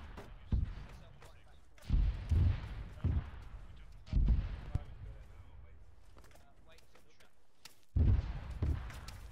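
Mortar shells burst in a Chechen-uprising military video game, a series of heavy muffled booms at irregular intervals, some clustered, fairly distant under quiet background, with players occasionally talking.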